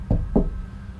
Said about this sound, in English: There came a knock at my door